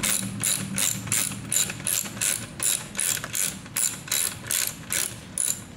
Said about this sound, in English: And ratchet it on.